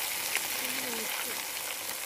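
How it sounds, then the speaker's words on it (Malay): Steady crackling sizzle of fish frying with spices in a pan, close by, with a faint voice briefly murmuring in the background. "Goreng ikan bersama rempah."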